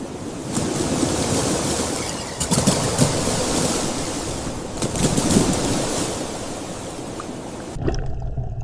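Ocean waves and surf rolling steadily over a Pacific sea, a continuous broadband wash with swelling surges, ending abruptly in near silence.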